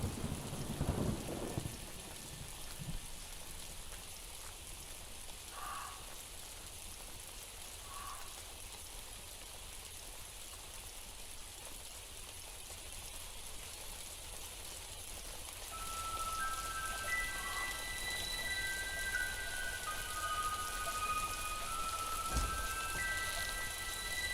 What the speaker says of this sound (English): it was raining, and I normally a shoot would be off if it was raining